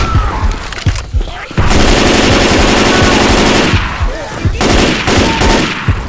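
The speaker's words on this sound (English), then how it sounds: "Stop shooting each other." Dense automatic gunfire from Left 4 Dead 2 on Hard Rain in the Milltown area, loud and sustained rapid bursts with brief gaps, sharp shots over a thick rumbling background.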